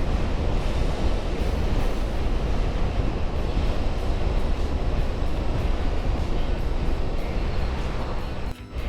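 Heavy wind roars loud and constant over the microphone while riding a 2024 Can-Am Spyder RT LTD on a very windy day, a dense buffeting rumble that drowns out almost everything else and only drops briefly near the end.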